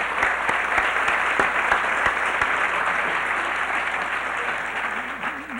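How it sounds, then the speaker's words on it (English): A hall full of people applauds at the 1994 Goldsmith Awards ceremony, steady dense clapping that holds for several seconds and then begins to thin and fade toward the end. "just stand and acknowledge the applause of all of us"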